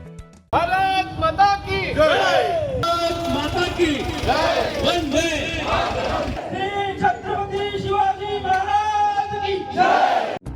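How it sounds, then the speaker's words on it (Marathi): At a tricolour patriotic rally in Neral, a crowd loudly chants slogans in unison, with a lead voice calling out and many voices answering in a continuous, energetic roar. "नारी के सन्मान मे सेना हे मैदान मे अशा जोरदार घोषणांनी नेरळच्या रस्त्यांवर देशभक्तीचा जल्लोष दुमदुमला"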